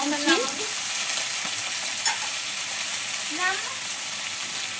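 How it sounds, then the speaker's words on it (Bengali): Onion, ginger, garlic and capsicum fry in a pan with a steady loud sizzle, broken by a few scraping stirs; a voice briefly sounds in the background. "পেঁয়াজের সঙ্গে আদা রসুন একটু ভেজে নেবো কাঁচা গন্ধটা যাতে চলে যায় এর মধ্যে আমি দিয়ে দেবো ক্যাপসিকাম"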